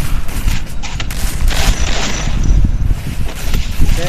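Gunfire in a battle royale match: dense, rapid overlapping shots and booms keep up for the whole stretch, loud and close with a rumbling low end.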